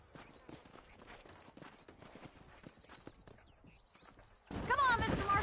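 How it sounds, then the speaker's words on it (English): Horses clip-clop at a steady walking pace in the Red Dead Redemption video game, with in-game voices talking over the hoofbeats and a louder burst of noise at the end. "These are fine horses."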